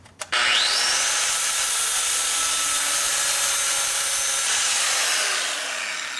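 Reamer working dowel pin holes in a 1942 Harley WLA brake pedal assembly, a steady loud high-pitched whirring grind running continuously for several seconds after a brief click, fading slightly at the end.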